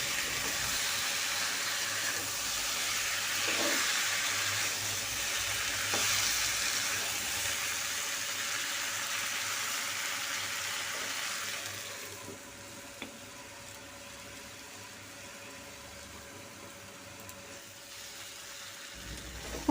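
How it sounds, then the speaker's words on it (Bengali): A curry of bitter gourd, potato, eggplant and shrimp simmers on a low flame under a lid, giving a steady soft sizzle and bubbling hiss that drops quieter partway through, with a faint hum beneath and no voices. "এখন সব কিছুকে ভালো করে নাড়াচাড়া করে আমি ঢাকনা দিয়ে 5 থেকে 7 মিনিট লো ফ্লেমে কুক করে নেব।"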